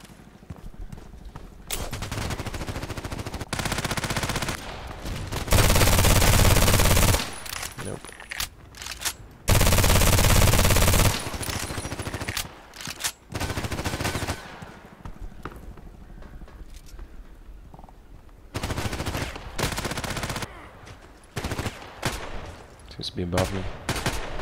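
Short bursts of Kriss Vector SMG fire from the shooter game Contract Wars, loud and close, arriving in several separated volleys with quieter stretches between them.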